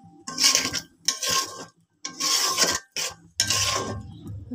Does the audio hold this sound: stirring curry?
yes